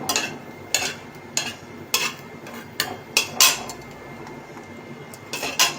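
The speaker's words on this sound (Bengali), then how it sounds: "একটু ভালো করে ফোড়ন দিয়ে সুজিটাকে একটু ভালো করে ভেজে নেবো প্রথমে।" Semolina roasted with tempering spices in a metal pan: a spatula repeatedly clinks and scrapes against the pan in irregular, close taps over a low background.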